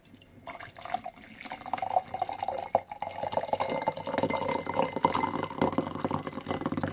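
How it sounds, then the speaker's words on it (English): Steeped tea poured out into a vessel, a steady liquid stream and trickle running for several seconds, close and moderately loud with drips, no talking. "I'm gonna pour out the tea and"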